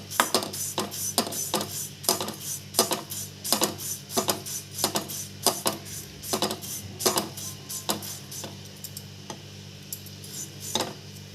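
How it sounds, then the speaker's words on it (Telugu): Dry oats roasting in a pan for oats upma, stirred with a spatula that clinks and scrapes against the metal in a steady, close, repeated rhythm, with no voices. "ఓట్స్ని ఇప్పుడు వేపుకుందాము"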